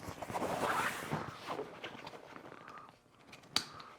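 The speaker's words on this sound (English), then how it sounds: "Cinch them down." Straps being cinched down over a waterproof rooftop cargo dry bag for overlanding: scratchy webbing pulls and rustling fabric close by, ending in one sharp buckle click.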